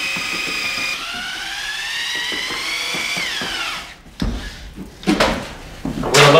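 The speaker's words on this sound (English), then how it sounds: "I chuck a large paddle mixer into my 1/2-inch drill and stir until smooth" A large paddle mixer in a 1/2-inch drill stirs joint compound. The motor whines steadily for several seconds, then its pitch sags and it stops, followed by several loud clunks and knocks as the paddle is handled.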